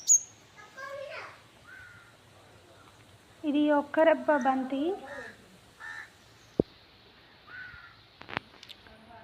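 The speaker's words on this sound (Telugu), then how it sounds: "పక్షులు మాత్రం సౌండ్ చేస్తున్నాయి," Crows cawing around a village house garden with trees, several harsh calls in short bursts and a few other bird chirps, while a person talks over them.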